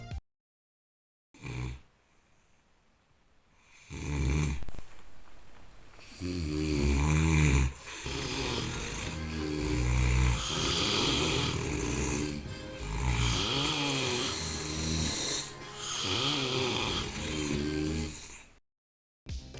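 A man snores loudly in deep sleep, with repeated heavy, rumbling snores that rattle on each breath and come close and strong, separated by brief quiet gaps, with no talking.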